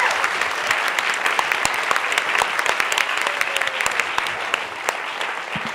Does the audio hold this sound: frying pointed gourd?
no